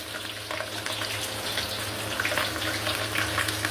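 Garlic, ginger and green chilli sizzle steadily in hot oil for a chilli chicken dish, a continuous close, moderately loud frying hiss with crackling pops and no voices.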